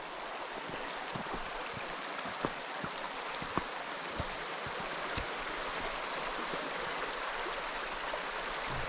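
A creek flows in a steady, broad rush of water during a Unimog U1700 crossing, with small splashes and knocks breaking through the constant wash and no voices.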